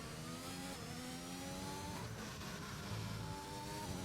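A race car engine in a racing game at Spa-Francorchamps, faint and steady, revving up through several rising pitch sweeps with quick upshifts between them, no voices.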